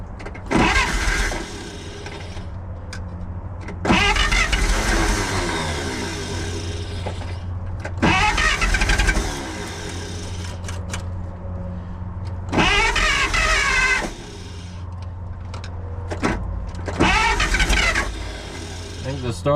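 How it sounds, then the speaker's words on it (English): A 1948 Pontiac straight-eight engine being cranked by its starter in four long bursts separated by short pauses, loud and close, with the engine turning over without catching. "I think the starter's getting angry."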